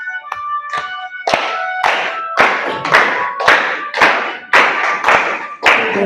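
Hands clap in a steady rhythm while a group sings along in a classroom English lesson, about a dozen sharp claps close and loud with faint voices between them.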